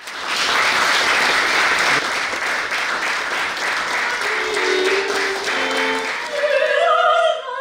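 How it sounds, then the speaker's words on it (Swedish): Sustained audience applause at a chamber music concert, a dense, steady clapping wash lasting several seconds without a break, with faint music or tones emerging near the end. "Vi gör dem en applåd."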